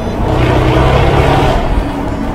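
A Ferrari F8 Tributo Spider sports car engine roars inside a road tunnel, a loud, continuous rumbling drone echoing off the walls, close and steady without speech.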